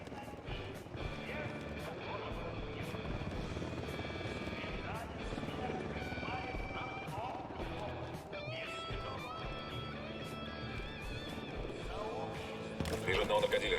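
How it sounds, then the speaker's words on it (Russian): Helicopter in the tactical shooter game Ghost Recon Wildlands, a steady rotor drone running loud throughout alongside game sounds and footsteps, growing louder at the very end. "Вертушка единства"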